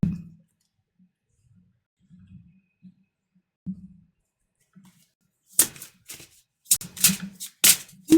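Tarot cards being shuffled, a few soft taps and shuffles at first, then quick bright bursts of riffling cards near the end, close by and otherwise quiet.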